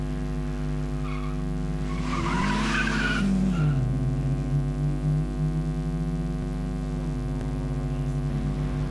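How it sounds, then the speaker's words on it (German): A Lancia Fulvia rally car at the 1994 Youngtimer Rallye Köln-Ahrweiler drives past with a steady engine drone that swells as it nears, with a brief tyre-scrub rush, over a constant electrical hum. "Fischers Fulvia läuft immer noch einwandfrei."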